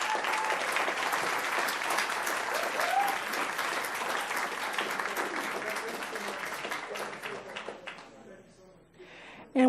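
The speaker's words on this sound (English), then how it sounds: "Let's give them all a round of applause." A round of applause from the audience at a board meeting honoring dispatchers, many hands clapping in a full, sustained burst that thins out and fades near the end before a voice starts.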